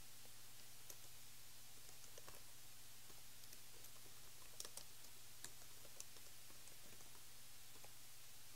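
Quiet, steady typing on a computer keyboard while entering an XML file path, soft key clicks spread across the whole stretch with a few sharper taps, no voices.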